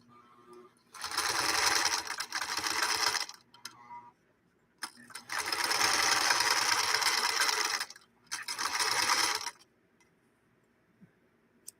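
A machine, partway through refurbishment with a recoated throat plate cover, runs in three loud bursts of steady whirring stitching, separated by short pauses with faint handling noises.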